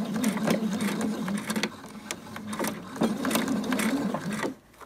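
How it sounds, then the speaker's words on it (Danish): A sewing machine stitches a skirt side seam in rapid, steady bursts with short pauses between runs, close and clear with no talk. "Så skal vi sy sidesømmen sammen, og det er sådan lige en god centimeter søm."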